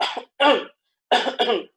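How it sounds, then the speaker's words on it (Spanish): A person gives four dry, forceful coughs in two pairs with a short silent gap between them, close and clear. "Ustedes nunca tuvieron durante la noche una tos así"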